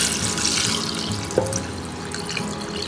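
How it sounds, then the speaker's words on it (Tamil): Thin coconut milk is poured into a cooking pot as a steady, close liquid rush with no speech over it. "இப்போ தண்ணி பால் சேர்க்கணும்."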